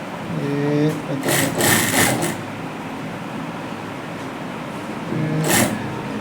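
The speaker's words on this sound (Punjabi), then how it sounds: "ਮੈਂ ਸੈਂਟਰ ਦੇ ਵਿੱਚ ਇਹਦੀ ਸਲਾਈ ਮਾਰ ਲੈਣੀ ਆਪਾਂ" A sewing machine stitches across the centre of a round neckline on a garment, running in short bursts separated by pauses, with a low steady hum beneath and speech-like tones between the runs.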